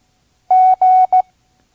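Morse code letter G sent as three clear, loud sidetone beeps at a steady pitch: two long dashes followed by one short dot, with brief gaps between them in an otherwise silent background.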